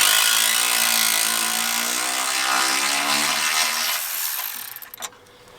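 A power ratchet whirs continuously while backing out a rusty 10 mm bolt on the radiator of a 2004-2008 Acura TL, loud and close, then winds down into a few clicks and quiet.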